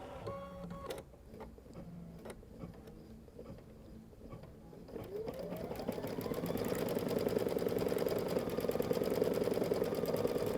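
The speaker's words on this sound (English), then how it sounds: "I'm going to simply touch the green button here on the front and start my embroidery." An embroidery machine starts up after a couple of button clicks, then stitches with a fast, steady mechanical chatter that builds and holds, close and moderately loud, with no talking.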